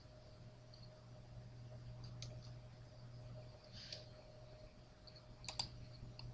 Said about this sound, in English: let me just type this out